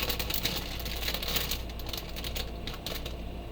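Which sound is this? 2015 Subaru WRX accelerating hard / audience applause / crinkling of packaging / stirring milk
crinkling of packaging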